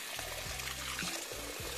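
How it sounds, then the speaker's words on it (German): Lukewarm tap water pours steadily into a tub for a bearded dragon's bath, a close, continuous splashing trickle with small bubbling surges. "Lassen da ziemlich lauwarmes Wasser rein, ein bisschen mehr als lauwarm."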